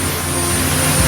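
An air force helicopter flying on a disaster relief logistics run to Sibolga, North Sumatra, heard as a loud, steady engine and rotor roar with no talk over it.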